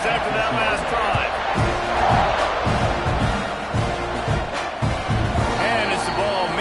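A stadium crowd cheers and roars in the College Football 26 video game during a kickoff, a steady loud wash of voices with thumps and clatter mixed in, under a commentator's talk.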